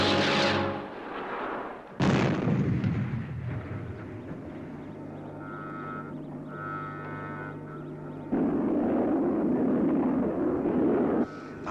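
Rocket engine ignition and launch effect from a 1960s puppet science-fiction series, a loud explosive blast that swells into a roaring, rumbling thrust with whining tones, then a second surge of roar near the end.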